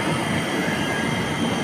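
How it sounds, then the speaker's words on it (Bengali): Standing SMBT Express train at a station, a loud steady rumbling drone with faint metallic squeal, no talk. "দেখেছো এই যে ট্রেনটা দাঁড়িয়ে আছে"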